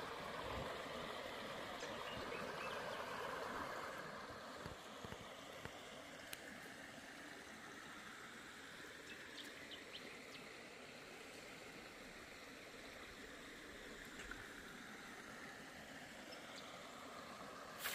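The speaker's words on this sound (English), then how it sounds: "A little bit of a waterfall as we're walking up towards the gorge in the creek that runs down through here" A small waterfall and a creek running down toward a gorge make a steady, broad wash of flowing water that continues without a break, moderately distant and soft, with no talking.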